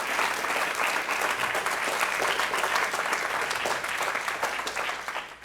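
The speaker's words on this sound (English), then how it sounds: "A round of applause for her one more time, please, guys." An audience at a mental health awareness event gives sustained, even applause that fills the room and tapers off near the end.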